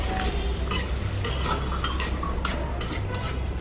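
Pumpkin pieces and vegetables are stirred in a pan over a steady sizzle while cooking with shrimp and Malabar spinach, with a run of spoon scrapes and clinks coming at an irregular pace, close up.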